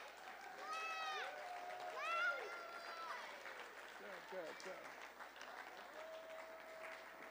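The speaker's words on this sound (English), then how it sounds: "Let's get that clapping going." An audience claps loudly and steadily, with whoops and cheers rising over the applause and a voice briefly heard.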